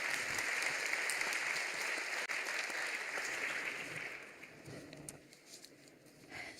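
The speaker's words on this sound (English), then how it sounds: "Can we give a round of applause for our wonderful panelists?" At a global health and climate panel event, the audience gives the panelists a round of applause: moderately loud continuous clapping that gradually thins and fades toward the end, with a few scattered claps remaining.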